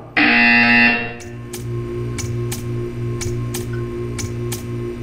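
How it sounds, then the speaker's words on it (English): A loud electronic buzzer in the video game Portal 2 sounds for about a second, then stops, leaving a steady hum with sharp ticks repeating at regular intervals. "You will hear a buzzer."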